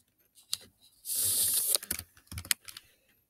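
Rapid keyboard typing in quick bursts of clicks, close and fairly quiet, with a brief hissing rush partway through.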